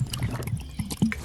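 Someone takes a few quick sips of water indoors, with soft swallowing and faint liquid sounds, close and brief with no talking.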